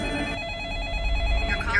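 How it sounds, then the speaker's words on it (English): A telephone rings with a repeated trilling bell, moderately loud and steady for a couple of seconds on a radio phone-in show, ending with a brief higher chirp. "Oh, that's the phone."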